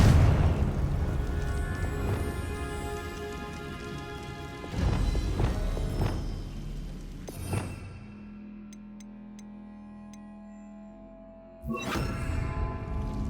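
Confringo blasting spell in Hogwarts Legacy: several heavy booming impacts with rumbling spread through the first eight seconds, then a quieter stretch and one more sharp blast near the end.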